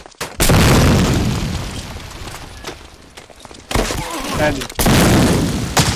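A grenade goes off in a shooter video game with a loud, booming blast, followed by more heavy bursts and rumbling gunfire-like impacts, while players talk over the action.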